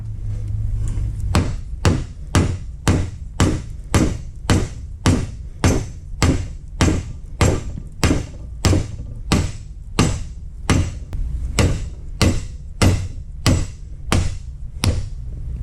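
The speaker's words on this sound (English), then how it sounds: "probably just hammer this thing right off" A hammer strikes a pin on a trailer landing gear box about two dozen times in a steady rhythm, each sharp metallic blow loud and close, with no talking.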